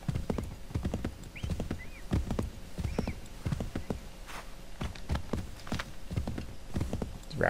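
Horse galloping in Assassin's Creed III, a rapid, close clip-clop of hooves in uneven bursts, with a brief whinny.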